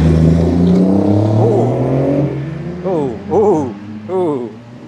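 An E30 BMW engine revs hard as it drives past in a convoy on a scenic Welsh road, rising and falling in several throaty surges after a stretch of low road rumble, with people talking over it.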